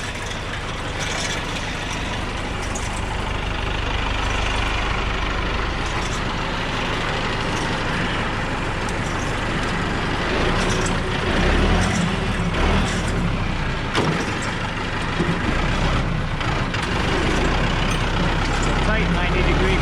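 A tractor engine runs steadily while pulling firewood along a rough woodland track toward a landing, a continuous loud diesel drone with low rumble throughout, with someone talking over it at points.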